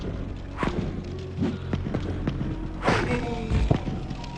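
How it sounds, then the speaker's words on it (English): Melee hit sounds from the PS1 game Nightmare Creatures: several dull punch-like thuds and whacks, spaced irregularly, sitting under steady background music with no speech. "The sounds made when you hit something just sound like punching"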